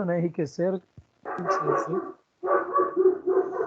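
A dog barks several times close by, short sharp barks mixed with yips, heard over and between a man's steady lecture speech.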